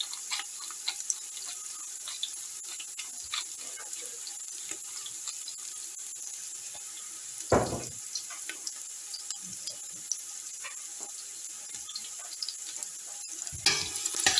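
Onions frying for a samosa filling crackle steadily in a pan, with soft stirring scrapes throughout and two brief louder rustles of the food being moved.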